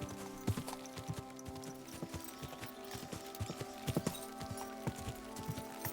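Horse hooves clip-clop along a path in the video game Kingdom Come Deliverance 2, an irregular run of sharp, close hoofbeats over a low ambient hum, with no voices.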